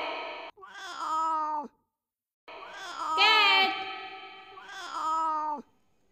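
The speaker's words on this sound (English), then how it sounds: "C for cat." A cat meows three times, each call a drawn-out, wavering cry with short silences in between. The cry is close and clear, and the middle one is the loudest and longest.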